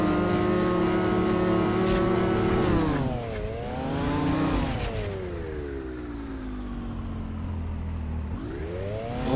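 A motorbike engine in the snow video game Snow on PS4 drones steadily, its pitch climbing and falling with throttle and dipping sharply twice, loud and continuous throughout.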